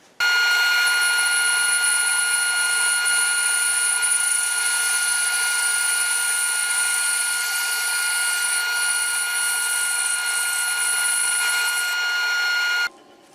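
A saw on an Accu Sled carriage slices a very thin piece off a wooden board. A loud, steady high-pitched whine starts abruptly, holds evenly for about thirteen seconds, then cuts off sharply.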